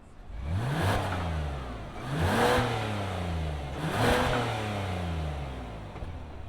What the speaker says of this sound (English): let's start up this Telluride and see what it sounds like